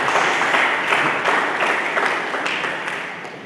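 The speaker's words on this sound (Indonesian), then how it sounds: "Mari kita berikan tepuk tangan bagi Yesus Kristus" A church congregation applauding together during a sermon, a dense steady wash of many hands clapping close by, fading slightly toward the end.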